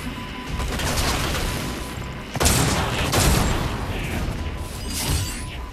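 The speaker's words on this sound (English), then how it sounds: "These shotguns are epic." Shotguns blasting in the VR game Stormland amid dense, continuous combat noise, with a loud burst standing out midway and the chaotic din holding steady throughout.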